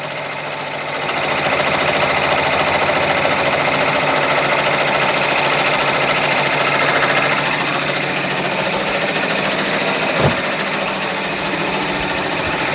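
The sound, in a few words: embroidery machine stitching a sweatshirt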